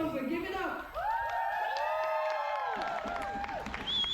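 Roller derby crowd in Eindhoven cheering for the Eindhoven Rockcity Rollers, a loud sustained wave of shouts, whoops and screams from many people filling an indoor arena.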